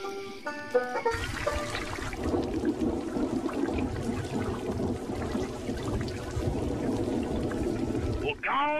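Heavy rain pours steadily as a dense, rushing wash of water noise that runs almost the whole time, with voices talking over it.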